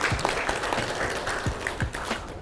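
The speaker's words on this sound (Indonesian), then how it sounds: "Tepuk tangan dulu untuk kita semua." Audience applause at a school project showcase event, a steady wash of clapping from many hands at moderate level with no talking over it.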